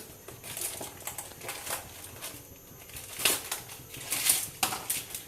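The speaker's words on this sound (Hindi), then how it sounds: "अब मैं रेड वाली डालूंगी जेली।" Dry red jelly powder pours and patters into a pot with soft crunching, rustling bursts at an uneven rhythm, quiet and close, no speech.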